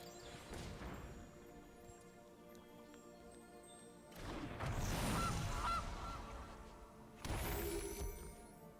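Goose token honks from the video game MTG Arena: loud cartoonish goose honks come in bursts, with a crashing impact effect, over game music and no talk.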